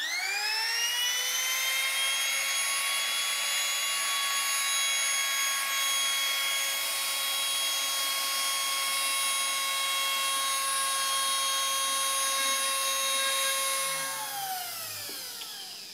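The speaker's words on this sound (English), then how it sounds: "we're just going to use the trim router. We're going to round over the edges" A trim router whines at a high, steady pitch for a long stretch, rounding over the edges of cherry wood, then spins down with a falling tone at the end.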